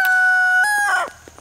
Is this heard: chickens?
yes